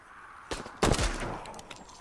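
Gunfire in the multiplayer shooter Hunt: Showdown, with a single sharp shot followed a moment later by a louder, heavier blast that rings out before fading, with no talking over it.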